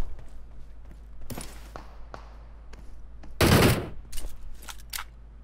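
Gunfire in a shooting video game: scattered single shots and a loud close burst of rapid fire in the middle, followed by a few more sharp cracks over quiet game background.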